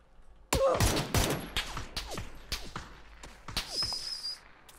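A burst of sharp gunshots rings out in PUBG, several cracks in quick succession near the start, then scattered single shots with echoing tails spaced over the following seconds, fairly close and loud with no talk.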